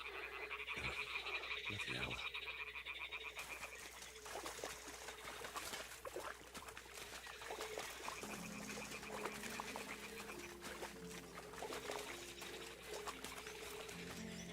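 Toads croak in dense, overlapping chorus in Kingdom Come: Deliverance II, mixed with trickling water, while a voice briefly mutters underneath.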